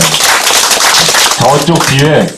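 Audience at a Korean city mayor's meeting with descendants of righteous army soldiers applauds in a brief scattered burst, heard under someone speaking into a microphone.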